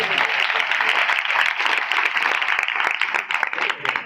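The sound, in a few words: loud applause from a congregation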